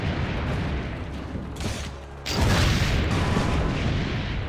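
Cannon fire booms in Assassin's Creed Brotherhood, set in a 1500s-era town under siege. Deep rumbling blasts roll through the battle noise, then a louder, sustained burst surges in halfway through.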